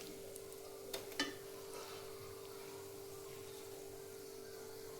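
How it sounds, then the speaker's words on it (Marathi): Cashews frying in hot oil for a Maharashtrian corn chivda give a quiet, steady sizzle with a faint hum, broken by two brief crackles near the start. "तळून घ्यायचे आहेत काजू."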